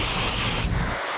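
A continuous hissing spray from an aerosol can of heat protectant hair spray, loud and close, lasting about half a second before cutting off into quieter room noise.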